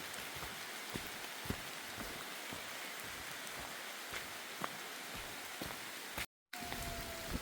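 Light rain spatters sparsely on the Appalachian Trail in North Carolina, soft scattered drops ticking against a steady wash of faint background hiss, no voices.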